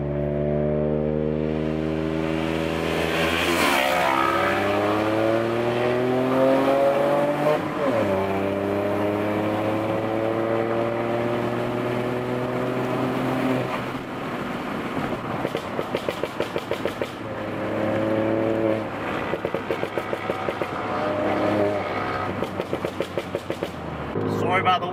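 A 200HP stage 2 Ford Fiesta accelerates hard through several gears, the engine note sweeping up and dropping at each shift, with heavy wind rush and a burst of rapid crackles and pops toward the end.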